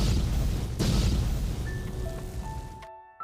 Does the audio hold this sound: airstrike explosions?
yes